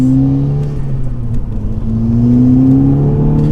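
A VW Golf GTI Edition 30 tuned to R Tech Stage 1 accelerates hard, its engine note climbing in pitch after a brief dip, loud and close throughout with no talking.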